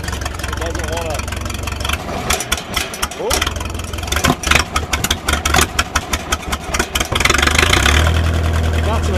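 A 1956 Minneapolis-Moline 445 tractor engine with a sticky throttle linkage runs loud and close, idling unevenly with uneven surges and a louder steady rumble near the end; someone talks over it at times.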